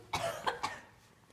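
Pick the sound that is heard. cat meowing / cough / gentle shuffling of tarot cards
cough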